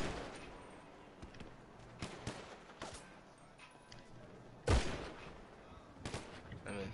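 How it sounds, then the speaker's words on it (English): Gunshots from a gun ring out as scattered sharp cracks at irregular intervals, mostly moderate and somewhat distant, with one louder, closer blast partway through. "Y'all hear that caliber off this gun?"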